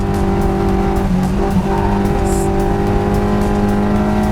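Track-tuned car at full throttle with the rear stepping out, a steady loud engine drone carrying through with a brief tire squeal near the middle, continuous and close.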